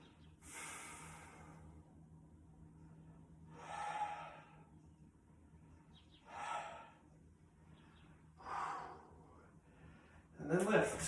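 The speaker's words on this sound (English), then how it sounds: "Three breaths." Slow, deep yoga breaths during a guided session, about four long breath swells spaced a few seconds apart, fairly close and soft against a steady low hum, with a louder rush at the end.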